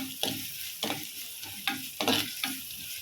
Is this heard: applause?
no